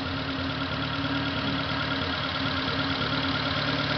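A car engine with mechanical lifters idles steadily at close range, a low, even rumble with a regular mechanical beat and no other sounds.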